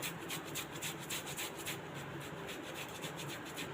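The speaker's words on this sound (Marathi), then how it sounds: "इथे बटाटे मी किसणीवर किसून घेते" Boiled potatoes grated on a hand grater, giving a steady run of close, rhythmic rasping strokes with no talk over it.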